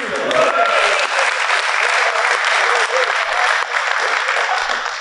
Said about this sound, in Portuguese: uma salva de palmas pra vocês